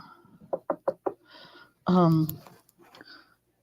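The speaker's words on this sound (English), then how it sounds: "Knock on wood." Four quick, sharp knocks on wood sound close and crisp in a steady rhythm, and a person talks right afterward.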